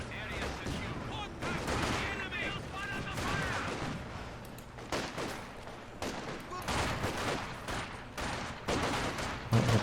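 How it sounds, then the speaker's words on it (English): AT partisans firing standard rifles in a video game, repeated rifle shots and bursts of gunfire at varying distances, layered with battle noise and a voice talking over them. "How long will it take for these AT partisans to actually kill these folks with their standard rifles?"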